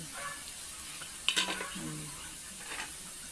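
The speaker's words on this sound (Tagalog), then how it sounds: "Saka pa yan nagisa ng bawang" Garlic sizzles softly in a frying pan, with a steady hiss and a few metallic clinks of a utensil against the pan.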